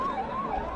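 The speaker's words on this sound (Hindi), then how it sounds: "भैया ये एम्बुलेंस को निकलने दीजिए प्लीज" Ambulance siren wailing in a brief, loud, close burst, its pitch rising and falling in a smooth wavering sweep.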